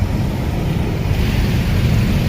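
Floodwater rushing down a street in Putatan, Muntinlupa after a heavy downpour, a loud, continuous roaring wash of water close to the microphone with no talk over it.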